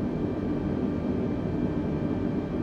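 Airbus airliner engines in Microsoft Flight Simulator spool up for takeoff on runway 5, a steady loud rumbling roar with a faint whine, alone without talk.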